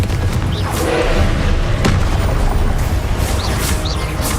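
Confringo explosion spells in the Hogwarts Legacy video game go off as loud, dense booming blasts, one after another with barely a pause, alongside crashing impacts.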